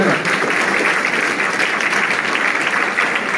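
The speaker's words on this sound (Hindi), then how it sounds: "हम जोरदार तालियों से सर का धन्यवाद कर सकते हैं" An audience at a wellness company event held in a school applauds, a dense and steady clapping close by that lasts the whole stretch.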